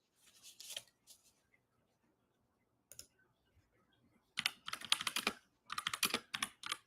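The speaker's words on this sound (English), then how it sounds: "Trying to remember to kind of look at the camera while I shuffle." Tarot cards being shuffled by hand: a few soft riffles early on, then dense bursts of crisp, rapid papery flicks in the second half, close and fairly quiet, with no talk.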